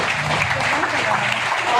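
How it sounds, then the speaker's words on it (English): An audience in a school auditorium applauds dignitaries at a Model UN conference, a steady wash of dense clapping filling the room, with a voice faintly audible underneath. "can give a huge round of applause for our dignitaries"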